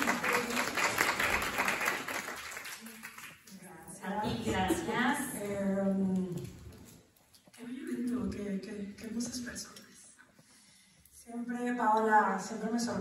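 Applause at a women's conference press event breaks out around a host, who talks over and between bursts of crowd clapping, with the applause swelling loudest at the start and near the end.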